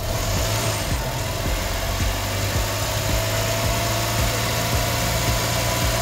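A Suzuki DA63T 4x4 automatic engine, dry cut with no radiator, runs steadily and close, a constant low hum with a rapid even pulse at idle that holds without clear rises in pitch, and no talking.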